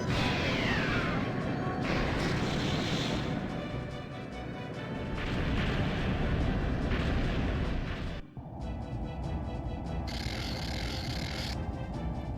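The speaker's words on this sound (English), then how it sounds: "Harpoon cannon, fire!" Harpoon cannon blasts and explosions in the Skies of Arcadia Legends video game, a dense, loud stretch of booming impacts, clanking mechanisms and crashing debris that runs almost continuously, with a brief dip near the end.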